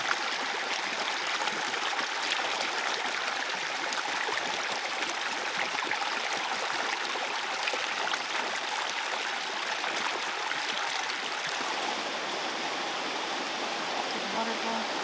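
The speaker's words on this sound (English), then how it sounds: "The waterfall." A waterfall and mountain stream on the Lake Bertha hiking trail in rainy weather, a steady broad rushing roar of flowing water, continuous and even throughout, moderately distant with no clear talk.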